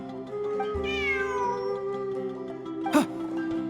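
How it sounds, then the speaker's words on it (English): A cat meows in Genshin Impact, a single rising, drawn-out call of about a second that stands out over steady background game music, followed shortly by a brief sharp chime. "Look! A cat!"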